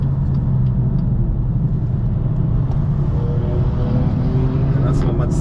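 Steady onboard engine drone and rumble of a BMW M2 F87 lapping the Nürburgring Nordschleife, continuous and fairly loud from inside the cabin, with speech heard over it.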